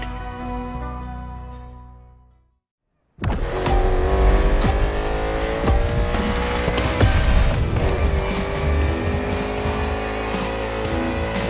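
Loud, steady roar of the Thunderbolt race car engine in The Crew Motorfest, a NASCAR-style racer, revving hard after a brief silence, with tire noise and music-like tones layered over the continuous drone.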